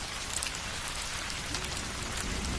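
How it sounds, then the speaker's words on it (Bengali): Steady rain falling outside at night, a continuous dense hiss of drops spread evenly across the full length, soft and uniform with no voices, used as a cartoon sound effect. "তাকিয়ে দেখি বাইরে বৃষ্টি পড়ছে।"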